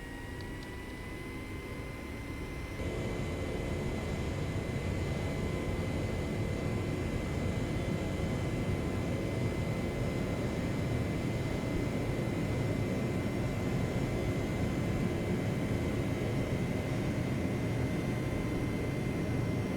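A Pilatus PC-9M takes off in the Prepar3D v4 flight simulator. Faint background hum until about three seconds, then a sudden jump to a steady, broadband engine roar that holds to the end.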